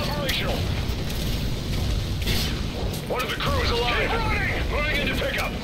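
Missile strike explosion in the Call of Duty Ghosts video game: a dense, continuous roar of rumbling blast noise and crashing debris that stays loud and heavy throughout, with sharper bursts layered on top.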